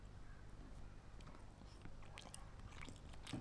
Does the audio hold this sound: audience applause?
no